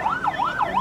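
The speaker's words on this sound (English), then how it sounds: "Ambulances rushing victims to hospital." An ambulance siren wails in a rising and falling sweep, loud and close, cycling about twice in under a second with no voices, amid the aftermath of a suicide bombing at a mosque in Pakistan.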